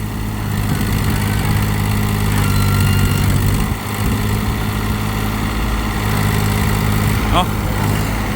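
A tractor engine runs steadily with a low, continuous rumble, loud and close, while voices talk over it.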